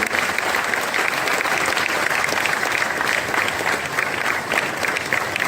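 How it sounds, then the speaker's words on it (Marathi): A large audience claps steadily at a Marathi theatre council award ceremony for veteran actors, loud, sustained applause filling every moment with an even, dense texture and no break. "टाळ्यांचा जोरदार गजर"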